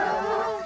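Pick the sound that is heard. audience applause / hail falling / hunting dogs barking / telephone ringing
hunting dogs barking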